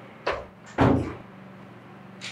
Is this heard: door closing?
yes